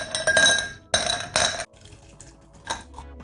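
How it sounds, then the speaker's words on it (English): Coca-Cola pouring into a glass, with splashy bursts and clinks of glass in several uneven pulses, then a quieter fizzing tail. "we have again Coke being poured into the glass"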